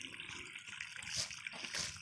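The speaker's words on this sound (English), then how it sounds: "Here's a little waterfall." A tiny spring-fed waterfall of ice-cold spring water trickles and splashes softly nearby, faint and continuous, with no talking.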